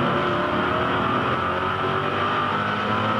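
A V8 race car at Eastern Creek powers out of a corner, its engine a loud, continuous, raspy roar held steady and close throughout, with no voices.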